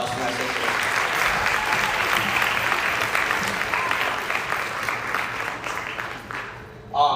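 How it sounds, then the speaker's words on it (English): Sustained audience applause fills a Bharatanatyam arangetram hall, a dense, steady clatter of many hands that fades slightly near the end before a brief louder burst. "Please give another round of applause for my sister."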